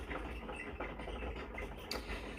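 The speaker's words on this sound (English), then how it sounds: "One of the hamsters is furiously running on his wheel." A hamster runs furiously on its exercise wheel, a continuous low rumbling patter with faint rhythmic clicking, steady and fairly close.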